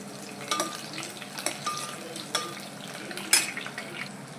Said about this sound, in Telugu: వేసేసుకొని వీటిని కూడా మంచిగా ఫ్రై చేయాలి.